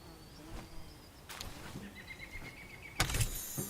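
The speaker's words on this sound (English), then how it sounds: "What is buzzing in my ear?" Buzzing creatures in the game Palworld, a wavering insect-like drone with a thin whine that comes and goes, plus a few sharp knocks and a louder burst near the end.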